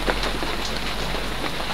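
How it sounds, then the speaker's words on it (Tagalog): Heavy rain falls in a dense, steady hiss of drops striking surfaces, continuous and fairly loud, with no voices. "malakas ang ulan"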